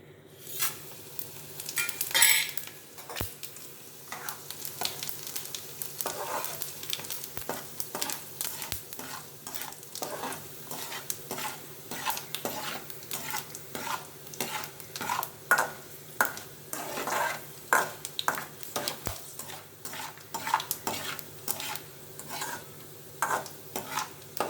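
Cumin, coriander seeds and fenugreek roast in a pan for a Malabar spinach chutney, a long stretch of steady rhythmic stirring and scraping over a light sizzle, with occasional metallic taps and no voices.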